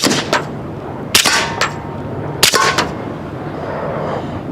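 Sharp, loud reports from a 10mm pistol, a Kimber Custom II or Springfield Ronin, ring out outdoors in three or four spaced shots, each followed by a short ringing echo.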